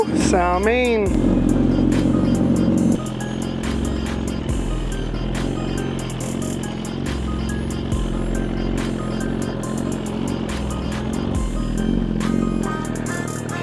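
A Suzuki GSX-R1000 sport motorcycle engine revs loudly while warming up on a hot day, a sharp rising rev at the start settling into a steady, rumbling idle with occasional blips, close by and continuous.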